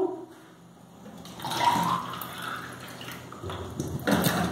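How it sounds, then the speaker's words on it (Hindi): Water being poured into a container partly filled with water during a simple classroom floating-and-sinking experiment, giving a soft, continuous splashing trickle that swells and fades over a few seconds, close by and fairly quiet. "अब मैं जरा पानी और बढ़ा देती हूँ।"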